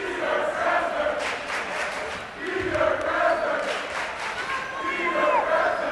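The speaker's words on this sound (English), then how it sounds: "now you hear the 6th man cheering for Pete Krasner" Students packed into the home section at a South Hadley high school basketball game against Mohawk Trail cheer for their trainer, a lively crowd roar swelling and dipping with shouts rising above it.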